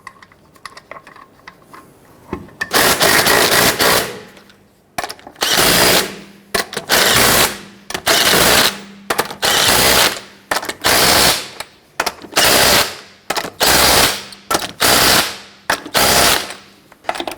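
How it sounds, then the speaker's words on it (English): An impact wrench spins lug nuts onto a 1999-2004 Jeep Grand Cherokee wheel in repeated loud rattling bursts, each about a second, separated by short pauses, very close with no talk. "Torque the lug nuts to 100 foot-pounds."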